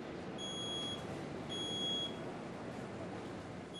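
A domestic smoke alarm sounds during a fire demonstration, giving repeated high-pitched electronic beeps that are faint against a heavy roar of burning and rushing air.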